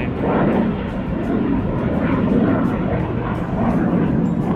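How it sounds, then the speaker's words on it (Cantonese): A loud, continuous jet roar rumbles throughout, steady and broad, as fighter jets take off nearby, heard from the rocky coast of Green Island, Taitung, Taiwan. "淨係呢5分鐘啊，已經聽到好多架戰機起飛聲啦"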